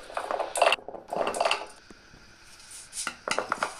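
Cut raw papaya pieces tumble into a bowl in a home kitchen, making a few close, clattering bursts of pieces knocking against the dish, then a quieter stretch before more soft knocks.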